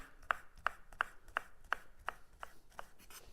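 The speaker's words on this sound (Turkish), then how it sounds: "Onu biraz daha ince doğruyorum ki yiyenler için hafif bir tatlılık olsun diye" A knife chops red and green peppers on a cutting board in about nine evenly spaced, crisp strokes. The chops are close and distinct and grow slightly softer toward the end, with no talking.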